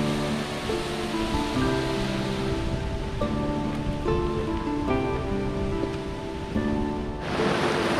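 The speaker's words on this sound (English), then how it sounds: "Waterfall, pretty scenic." A scenic waterfall on a hot California hiking trail, a steady broadband rush of falling water filling the whole stretch, loud and close, with a brighter surge near the end.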